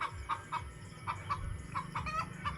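A chicken clucks softly in a rapid series of short, repeated calls, close by with no other sounds.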